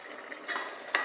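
Mustard seeds and dried red chillies fried in oil and stirred in a pan for chickpea thoran, a soft low sizzle with brief scraping touches and one sharper clink near the end.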